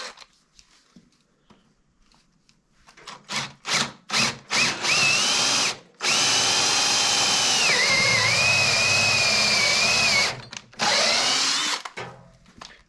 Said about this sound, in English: about to drill this out now. We're using our pilot bit here.